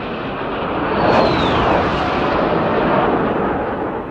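Sukhoi Su-25 ground-attack jet roaring by, a loud continuous broadband engine rush with a rising-falling whine that swells around the middle and stays strong throughout, no voices.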